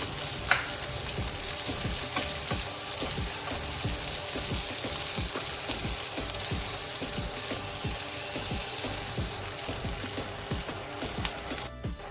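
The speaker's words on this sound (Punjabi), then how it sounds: "ਮੈਂ ਪਿਆਜ਼ਾਂ ਨੂੰ 2 ਮਿੰਟ ਵਾਸਤੇ ਭੁੰਨ ਲੈਂਦੇ ਆਪਾਂ" Long-sliced onions fry in a pan for karela-peel bhurji, giving a steady, bright sizzle throughout with regular soft scrapes of stirring underneath and no talking.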